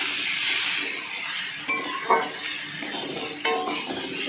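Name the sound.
stirring oats with salt and turmeric powder in a pan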